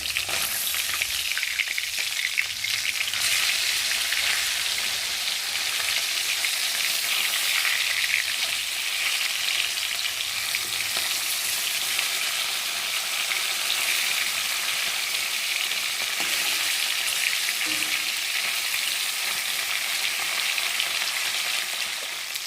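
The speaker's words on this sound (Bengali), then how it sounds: "তো চলো এবার মাছটাকে উল্টে দেবো। তো একটু ভাজা হয়ে গেছে।" Fish frying in a pan of hot oil for a fish curry, an even, continuous hiss and sizzle with scattered crackles, close and fairly loud throughout.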